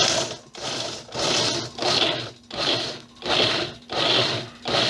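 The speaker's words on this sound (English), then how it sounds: "Okay, I want to coarse chop these." Green tomatoes and hot peppers being coarse chopped make loud, close, rhythmic whirring bursts, about seven of them, each lasting roughly half a second with short gaps between, and no talking.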